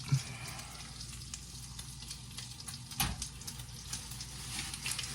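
An egg fries in a pan, a soft continuous sizzle with faint crackles and one brief clatter midway, fairly quiet and with no talking.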